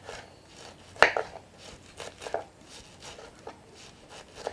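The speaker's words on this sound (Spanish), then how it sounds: "Ahora voy a picar el repollo" A knife chops cabbage on a cutting board in a home ranch kitchen, giving a string of faint, irregular taps with one sharper knock near the start; no one talks.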